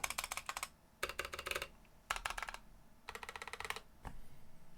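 Rapid typing on a NovelKey NK87 mechanical keyboard fitted with stock stabilizers and unlubed switches, coming in four close, crisp bursts of clacking keystrokes separated by short pauses, with a single heavier key thock near the end.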